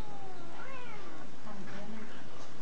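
A cat being grabbed and headlocked by a monkey lets out a few distressed, drawn-out meows at close range.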